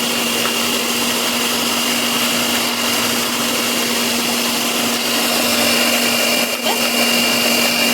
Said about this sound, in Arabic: احط البيضه الثانيه، اخر بيضه، اضرب بس الخليط لمده دقيقه واحده